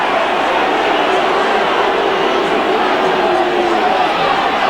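Leeds crowd at a rugby league match against Wakefield, a dense, steady roar of many voices rising and murmuring in reaction, loud and continuous throughout.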